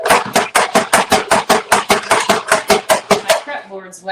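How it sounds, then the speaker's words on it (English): A knife slices through an onion on a wet prep board in a rapid, steady series of about fifteen crisp chops, each a sharp close thud, ending with a brief pause and a faint clink. "Let's cut up this onion."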